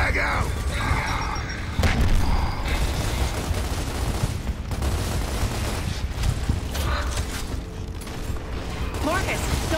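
Loud gunfire and booming shotgun blasts fill a co-op shooter campaign in a dense, continuous barrage of mechanical clatter, with players talking over the action.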